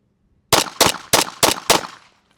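Five pistol shots fired at 12 yards with a Sig Sauer or similar competition handgun ring out in an evenly spaced burst, each sharp crack followed by a short echo, with no talk.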